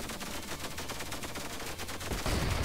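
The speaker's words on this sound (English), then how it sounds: "We're getting shot at though." Rapid gunfire aimed at the player in the video game Octogeddon, a fast string of sharp shots rattling at a moderate level, with a louder burst near the end and no voices.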